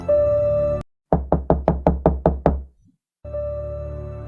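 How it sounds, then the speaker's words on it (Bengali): Eight evenly spaced, solid knocks on a door, close and loud, set between stretches of steady droning ambience with a short silent gap around them. "হঠাৎ দরজা ধাক্কানোর শব্দ"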